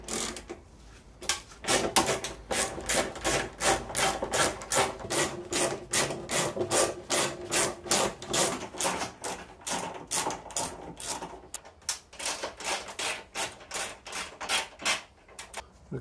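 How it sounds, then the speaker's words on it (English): Socket wrench ratcheting out front wing bolts on a Mk4 VW Golf GTI, a long run of fast, regular clicks close up, with a brief pause partway through before the clicking resumes. "So let's start unbolting all this now."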